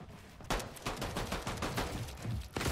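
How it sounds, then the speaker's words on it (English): Rapid bursts of shotgun fire from a mythic shotgun in a Fortnite battle, a loud volley of repeated blasts over roughly two seconds, close and alone with no talking. "He had the freaking mythic shotgun"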